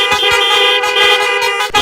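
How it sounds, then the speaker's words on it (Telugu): A police officer riding a motorbike sounds its horn in a series of loud, close honks, the short blasts broken by brief gaps, with traffic noise underneath. "ఒక పోలీస్ సారు హారన్ కొట్టుకుంటా బైక్ నడిపిండు"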